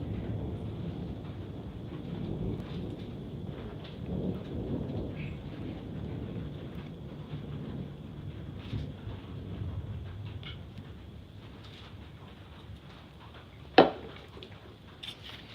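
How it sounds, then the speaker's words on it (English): Steady rain on a farm during a thunderstorm, a dense hiss under low rumbling thunder, with one sharp, loud crack near the end. "you can see the storm"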